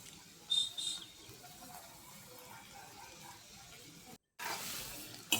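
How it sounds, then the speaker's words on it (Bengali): Potato fries dropped into hot oil on a high flame give a steady, soft sizzling hiss, with a couple of brief louder bursts early on and a short silent gap before the frying resumes. "তো তেল গরম হয়ে যাওয়ার পরে আমি আস্তে আস্তে আলুগুলো ছেড়ে দেব।"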